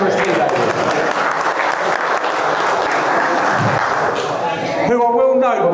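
Loud, sustained applause from an audience at a woodturners' seminar in Dublin, clapping for the tea lady, steady and dense before cutting off into a short bit of other sound at the end.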